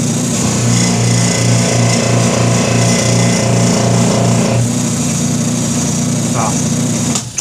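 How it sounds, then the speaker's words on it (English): A power sander or rotary tool works on a Harley-style motorcycle oil tank top cover, giving a loud, steady high-pitched whine with a pulsing rhythm that cuts off near the end. "I gotta sand it more."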